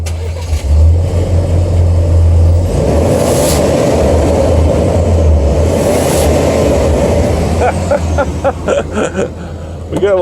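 A Ford Ranger pickup engine fires up and revs loudly with a steady low rumble, intake roar and turbo whoosh, held close and continuous throughout, with some voices faintly underneath.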